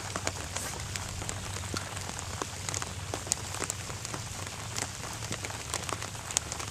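Steady rain patters on a surface outdoors while fishing, a dense even hiss of drops with scattered louder individual drips, close and continuous with no talking.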